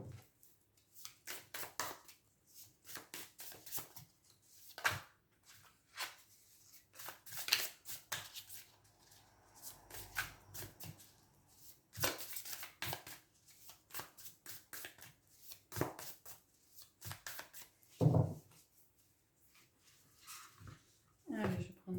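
Tarot cards are shuffled and drawn in a long run of soft, rapid papery riffles and flicks with frequent pauses, close and fairly quiet, with someone speaking over part of it.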